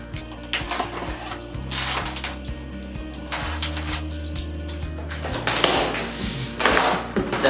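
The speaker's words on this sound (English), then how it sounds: "Now we cut this tape." A knife slices through packing tape on the cardboard box of a JGMaker A5S DIY 3D printer, close and crisp, with scraping and tapping bursts as the blade and hands work the carton.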